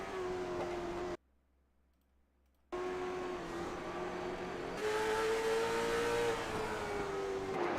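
A race car roars past at Langley Speedway during a stock car race, its steady engine drone cutting out briefly before returning louder and rising as it nears, with no talk over it.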